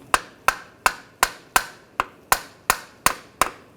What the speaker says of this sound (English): I'm just going to tap it from the side just to get it to spin